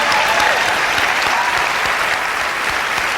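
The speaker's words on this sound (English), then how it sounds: "Let's give them all a round of applause." A concert audience at a 2011 musical and concert in Pasadena, California, applauds in a dense, even wash of clapping that holds steady throughout, with no speech over it.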